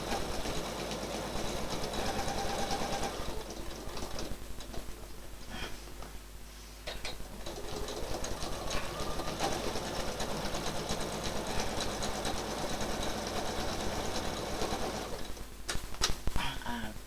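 A sewing machine stitches in the ditch on a quilt, a long steady mechanical drone with brief pauses, close and fairly loud throughout.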